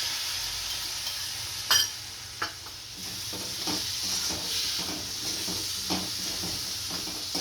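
Curd is stirred into Kathiyawadi gunda curry frying in a pan, giving a steady sizzle and hiss broken by a few sharp clinks and scrapes of a spoon against the pan.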